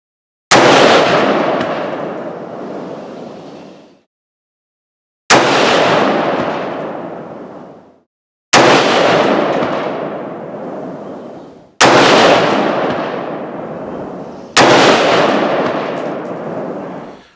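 Smith & Wesson MP15 Sport II rifle fired at an outdoor range: five loud single shots spaced a few seconds apart, each with a long echoing decay.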